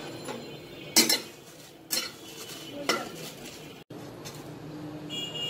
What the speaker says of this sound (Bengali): এখন আমি শুকনো মরিচটা টেলে নেব।